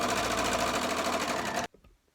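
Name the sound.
sewing machine stitching a pocket seam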